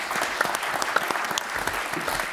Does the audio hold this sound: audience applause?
yes